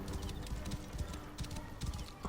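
A horse gallops at full speed in the video game Assassin's Creed Origins, a quiet, steady run of rapid hoofbeats repeating over a couple of seconds with faint background game ambience.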